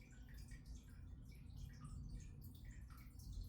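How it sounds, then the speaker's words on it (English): Steady trickling and gurgling of water running in a home fish tank, a faint continuous splash with light dripping textures and no voices. "Y'all hear my fish tank water?"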